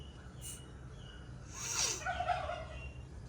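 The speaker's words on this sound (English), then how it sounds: "you can hear the birds." Birds call faintly in a green monsoon forest near Dapoli, with a few short, distant calls rising over quiet ambient hush.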